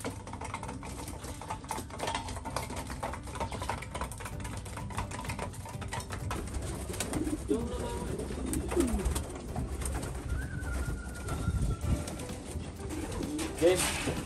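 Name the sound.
pigeons cooing while being fed grain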